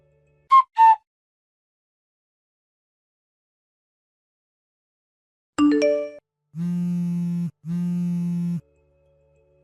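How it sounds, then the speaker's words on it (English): A phone rings with an incoming call, two sustained electronic ringtone tones repeating after a brief chime-like burst, clear and close in an otherwise quiet space. "Answer your phone already! I've been calling you multiple times!"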